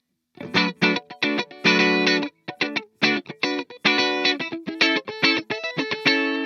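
A clean electric guitar through an ENGL Powerball amp model rings out in bright, sparkling chords, played in short rhythmic bursts with brief gaps between strums.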